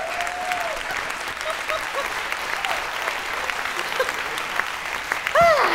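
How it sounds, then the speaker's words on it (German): An audience at a science slam at the Roxy in Ulm claps in dense, sustained applause, with a few brief tones near the end. "Hier ist für euch mit einem tosenden Applaus Susanne Grube."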